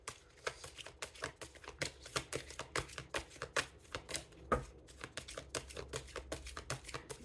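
Tarot cards being shuffled by hand during a Taurus reading, a rapid series of crisp, close riffling clicks and slaps in an uneven rhythm, quiet and continuous, with no talking.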